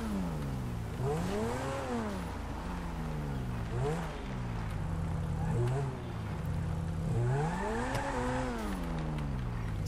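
Modified Ferrari-type race car engines in GTA 5 rev and rise through gears in repeated swooping pitch sweeps, loud and continuous, with a slight tire squeal among them.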